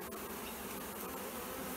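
Honey bees buzz around beehive boxes at an apiary, a dense continuous hum of many insects filling the air up close, with no talk.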